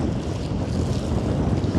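Waves wash against a lake shore in a village setting in the evening, heard as a close, continuous rushing swell with heavy wind buffeting the microphone.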